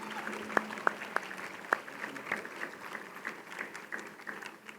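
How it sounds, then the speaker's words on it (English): Audience applause at a leadership awards gala, a steady patter of clapping with a few sharp louder claps standing out, moderate and sustained through the whole stretch. "Please give him a thunderous round of applause as he comes."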